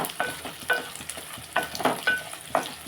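Ingredients for a gongura and dried prawn curry fry in a pan with a steady close sizzle, broken by a spatula scraping and stirring every half second or so. No one speaks.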